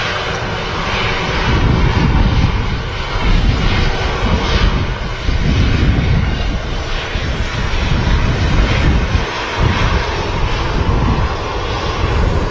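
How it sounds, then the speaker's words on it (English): An EasyJet Airbus A320 jet lines up on runway 23L for departure at Manchester Airport, its engines giving a loud, steady roar that rises and falls slightly throughout, with no voices. "EasyJet A320 just lining up on 2-3 left, ready for the departure"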